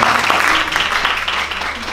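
Concert audience at a music hall applauding, a short, loud, close burst of dense clapping that stays steady for its brief duration.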